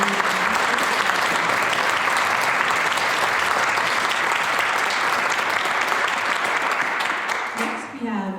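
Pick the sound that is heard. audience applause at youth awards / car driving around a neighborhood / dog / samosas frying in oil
audience applause at youth awards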